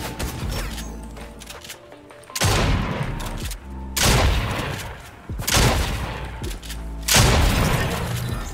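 Bursts of gunfire in a video game shootout, four loud, broad blasts of shots spaced a couple of seconds apart, each trailing off over a steady background of game noise.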